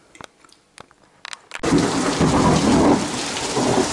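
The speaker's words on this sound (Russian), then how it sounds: "Ребят, смотрите, какой у нас ливень." A heavy summer downpour suddenly breaks over a rural garden, a loud dense roar of rain on surfaces with deep rumbling thunder, following a few scattered drops and knocks.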